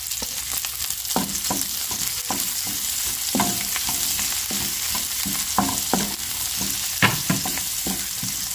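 Garlic and onion sauté in a pan, after fish has been cooked in it, with a constant bright sizzle and frequent scraping, tapping stirs from a utensil at an uneven pace; no voices.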